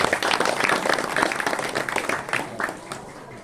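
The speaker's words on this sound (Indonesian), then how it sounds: "Tepuk tangan untuk RW 4." An audience applauds for RW 4, a neighborhood unit named overall champion at an evening community gathering in Banyumas, with dense, steady clapping that stays loud and then thins slightly toward the end.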